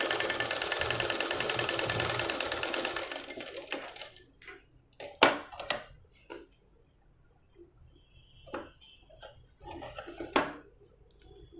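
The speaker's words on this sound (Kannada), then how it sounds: "ತಿರ್ಗಾ ಮತ್ತೆ ಇದ್ರ ಮೇಲೆ ಇನ್ನೊಂದು ಸ್ಟಿಚ್ ಮಾಡಿ ಎಡ್ಜಿಗೆ." Sewing machine running a second line of stitching along the edge of a blouse, a steady mechanical whir for the first few seconds, then stopping, followed by scattered close clicks and taps of handling.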